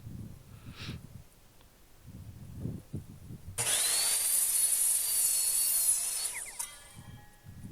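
A power saw cuts through wooden boards for a computer desk, one loud sustained high-pitched pass of about three seconds that winds down, with quieter handling noises before and after.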